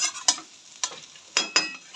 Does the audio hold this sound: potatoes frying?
yes